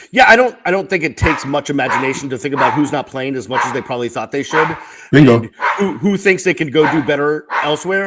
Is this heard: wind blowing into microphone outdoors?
no